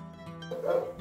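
A dog barks close by in a Tibetan area in winter, letting out one loud, throaty bark after a low growling lead-in, heard alone without talking.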